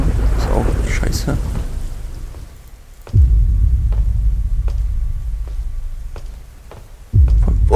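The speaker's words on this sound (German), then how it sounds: "das Gewitter ist auch scheiße." A thunderstorm in the horror game Slender rolls on, with steady rain and low rumbles, and sharp thunder cracks hit at two points, while a player talks now and then.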